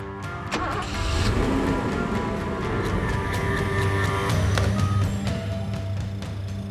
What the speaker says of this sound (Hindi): गाड़ी चालू रखना